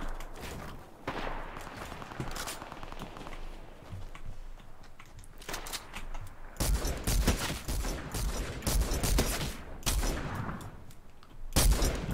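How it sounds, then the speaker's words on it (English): Shotgun fire in Fortnite, Season 9 combat shotgun gameplay, with sharp blasts among scattered gunfire and footsteps, building to louder, closer shots near the end. "Damn, the shotgun does way too much damage"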